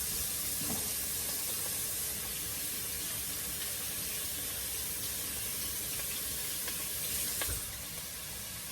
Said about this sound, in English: veggies still in here sauteing